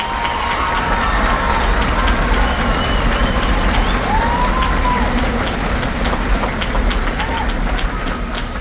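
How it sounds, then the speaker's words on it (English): Audience at a spring string concert applauding a scholarship honoree, dense sustained clapping from a seated crowd filling the room at steady loudness, with faint voices mixed in. "Let's give her a round of applause"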